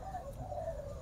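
Pigeons coo close by in a backyard flock of birds being raised, with a steady low throaty murmur and no talk.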